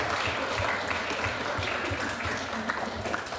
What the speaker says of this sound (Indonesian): Sekali lagi beri aplaus untuk kedua kelompok.